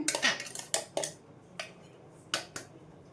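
Powder tipped into a wide basin while making green gram laddu, giving several sharp metallic clinks and scrapes of a spoon against the vessel, spaced irregularly and close by, with no talk.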